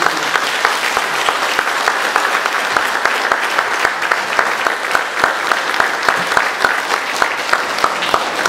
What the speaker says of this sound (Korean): 우리 다 같이 박수 한번 주십시오.